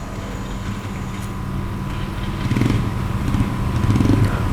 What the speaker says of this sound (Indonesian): Ini di luar ruangan ada suara-suara motor gitu ya.